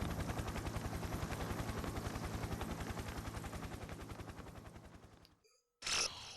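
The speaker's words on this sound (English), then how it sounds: "I run towards the helicopter." A helicopter from the video game Persona 4 Ultimax gives a rapid, steady rotor chop for about five seconds and fades, then a brief sharp burst of game sound follows after a short silence.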